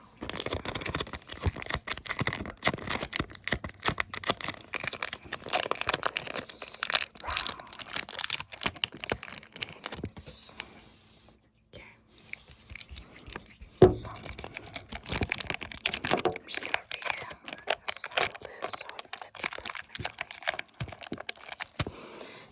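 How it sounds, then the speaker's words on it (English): Crinkling, crackling tape is pressed and smoothed down close up in an ASMR setting, a long run of dense tapping and rustling with a brief quiet pause midway. "So we're gonna go ahead and just put this piece of tape down"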